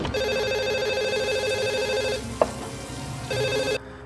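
Telephone bell ringing in repeated bursts, a steady loud electronic ring with a short break before it resumes, in an Indonesian drama scene set in a room where a servant brings drinks.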